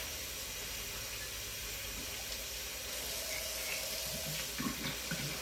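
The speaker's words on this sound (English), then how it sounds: "And now this is just another rinse." A glass bottle is rinsed under a running kitchen tap, a steady close rush of water splashing into a sink throughout, with brief irregular clunks and sloshes near the end.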